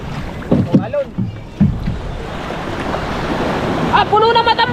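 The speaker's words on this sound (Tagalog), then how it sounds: "Ayan ang alon!" Sea waves slosh and splash around a small fishing boat out netting fish, with choppy water and wind noise, while excited voices shout over the surf.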